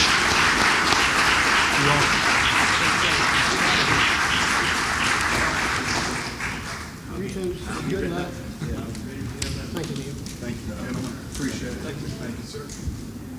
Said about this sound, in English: Let's give those candidates a big round of applause as they exit the stage